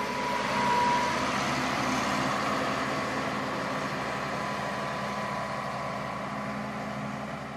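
Heavy trucks hauling gravel on a new road construction site in Kinshasa, a steady low diesel engine drone with idling rumble, moderately loud and continuous throughout.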